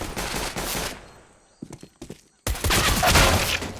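Gunfire in CS:GO: a burst of rapid shots, a quieter gap with a few sharp isolated cracks, then another loud sustained volley close up.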